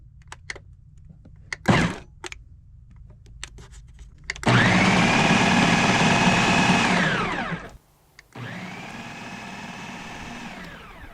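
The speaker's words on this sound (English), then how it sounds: "My microwave on." A microwave oven hums steadily after being switched on remotely, a loud whirring drone with a brief thump before it and a short pause then resumption later; no voices.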